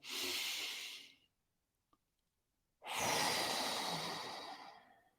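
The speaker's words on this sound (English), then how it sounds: "you just breathe in, breathe out like before" Two slow, deliberate breaths during a mindful breathing exercise: a long airy exhale of about a second, a silent pause, then a longer, fuller breath tapering off, close and alone with no talking.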